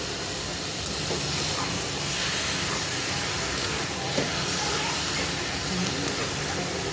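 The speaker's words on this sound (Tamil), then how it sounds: "சிக்கன் போட்டு நல்லா வதக்குங்க." Half a kilo of chicken sautés in a pan for a home-style chicken gravy, giving off a steady, loud broadband hiss and sizzle with faint stirring scrapes, alone with no talk.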